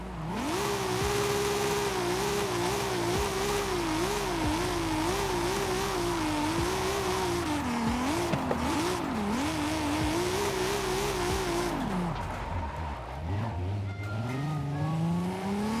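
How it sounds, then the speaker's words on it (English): A 1000+ hp Audi RS6 Avant drifts in Forza Horizon 5, its engine holding a loud, wavering high rev with sustained tire squeal, dropping off and revving back up near the end. "Get our tires warmed up here first."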